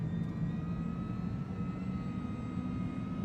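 Vision Jet engine in the FlightFX flight simulator spooling up, a steady low rumble with a faint whine held evenly throughout, fairly quiet and with no talk.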